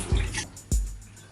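Overflowing water gets dumped out in a few heavy splashing pours, each a short gush landing close by with a thud and a wet spray, spaced about half a second apart.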